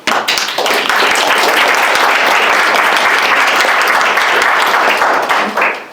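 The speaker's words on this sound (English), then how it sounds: "Please join me in giving her a round of applause." Loud, dense applause from a conference audience at a side event, sustained evenly for several seconds before tapering off at the end, with no talking.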